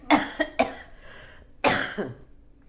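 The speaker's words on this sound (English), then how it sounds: "I didn't want to cough in my microphone" A cluster of three quick coughs followed by a short pause and one longer, harsher cough, close to the microphone.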